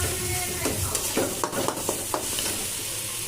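Spices stir-fried in a hot pan: a loud, close, continuous sizzle with repeated quick scraping strokes of a spatula against the pan.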